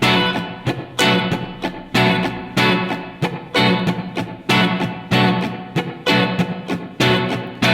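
A guitar strummed in a steady pattern, some strokes accented louder and others choked to muted, percussive chops between chords.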